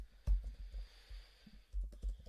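Computer keyboard typing, quiet close clicks and thuds in small irregular clusters with short pauses, over a faint steady hum.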